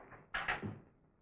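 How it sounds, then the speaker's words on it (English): A door is shut in a 1931 crime film scene, two close, solid knocking thuds in quick succession followed by a softer low rumble as it settles, with no voices. "Shut that door."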